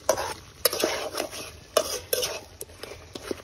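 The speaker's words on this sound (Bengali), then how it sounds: "এখন কষানো মাছগুলোর সাথে আমরা লম্বা লম্বা করে কেটে নেওয়া আলু দিয়ে দিচ্ছি।" Pond fish and long-sliced potatoes being stirred in a pan, with a spatula scraping and knocking against the metal in irregular strokes over a soft sizzle, close and moderately loud.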